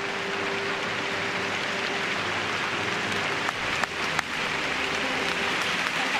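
Steady, dense applause from an arena crowd at a figure skating Grand Prix Final free program, a continuous wash of clapping with a couple of sharper knocks partway through.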